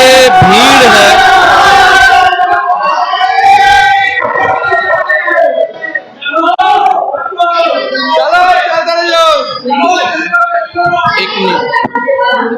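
A dense, loud crowd of devotees at the Siddhnath Mahadev temple in Vapi on Mahashivratri chants and shouts together in rising and falling voices, filling the space continuously.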